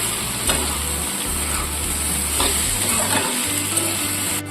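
Ginger paste and cane jaggery fried in a pan for muri ghonto, a continuous close sizzle with occasional stirring scrapes over a low background hum.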